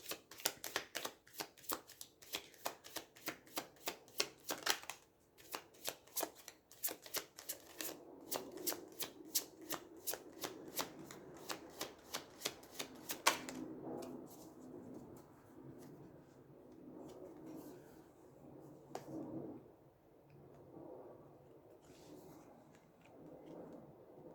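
Tarot cards shuffled over and over in rapid bursts of sharp clicking riffles, close and crisp, then giving way to softer, sparser card handling with occasional snaps and no speech.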